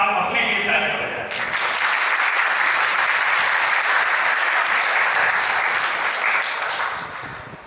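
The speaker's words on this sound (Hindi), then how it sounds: "इसके लिए मैं चाहूंगा कि एक बार आप अपने लिए ताली बजाएं।" A seated audience at a one-day youth camp at a Gayatri Shaktipeeth in Bhopal bursts into loud, sustained clapping that starts abruptly and holds steady for several seconds before easing slightly.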